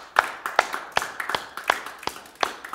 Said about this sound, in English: Give him a hand clap, pal.